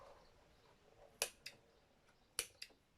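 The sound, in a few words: scissors cutting embroidery threads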